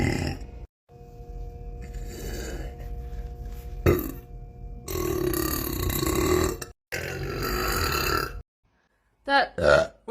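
A girl lets out a few loud, drawn-out burps between bursts of talk and laughter, each belch a rough, gurgling rumble close to the microphone.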